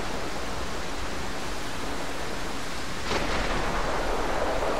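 Steady heavy rain hisses throughout in the video game Ylands, then a thunderclap breaks in near the end and the storm noise swells louder.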